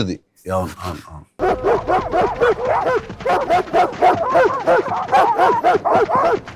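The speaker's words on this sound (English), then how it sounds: "It's natural for the dogs to bark." Several dogs bark and yip in rapid, overlapping bursts, loud and close, after a few brief spoken words at the start.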